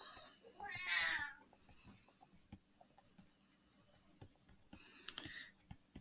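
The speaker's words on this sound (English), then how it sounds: "I'm sorry if you can hear my cat in the background." Pet cat meowing, one clear drawn-out meow near the start and a second fainter one toward the end, with soft tapping and shuffling in a quiet room.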